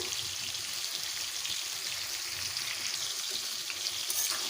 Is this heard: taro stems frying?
yes